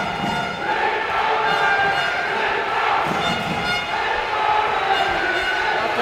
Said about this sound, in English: the crowd is so noisy right now